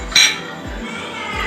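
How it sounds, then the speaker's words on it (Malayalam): Large tomato pieces drop into a mixer jar with one sharp hard clink, followed by a few soft thuds in a quiet kitchen. "ഒരു ജാർ എടുത്ത ശേഷം നമുക്കതിലേക്ക് ഈ തക്കാളി ഇട്ട് കൊടുക്കാം."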